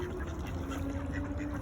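Ducks quack continuously through a short stretch while being fed outdoors, a steady, busy chorus of overlapping calls at moderate distance with no clear pauses.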